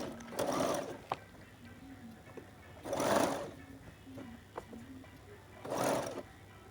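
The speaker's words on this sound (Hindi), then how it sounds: "अब हम फ्रंट पार्ट की ओर अपनी फिनिशिंग की सिलाई लगाएंगे" Sewing machine stitching a finishing seam along a round collar front, running in three distinct bursts with quiet pauses and small clicks between them.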